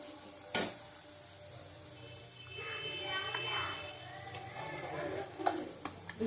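Oil sizzles in a pan while ghugni is cooked in a home kitchen, a soft, fairly quiet hiss with a sharp clink early on and light utensil taps, as a person speaks nearby.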